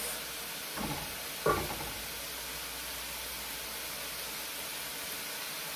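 Chili flakes dropped into a hot pan with garlic in oil for a Portuguese fish stew: a steady, hissing sizzle throughout, broken by two brief stirring scrapes and clatters near the start, with no talking.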